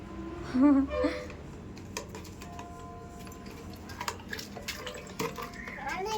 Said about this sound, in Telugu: పైన వచ్చి వాటర్ పోస్తాడంట